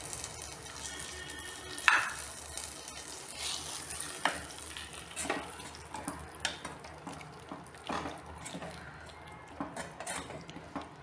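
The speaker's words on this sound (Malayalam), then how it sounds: "ഇനി ഈ കടുക് താളിച്ചത് പാൽക്കപ്പയിലേക്ക് ചേർത്ത് നന്നായി ഇളക്കുക" Tempered mustard seeds are stirred into milk kappa made with cassava, with soft frying sizzle, a spoon scraping and clinking against the pan, and light irregular knocks, all fairly quiet.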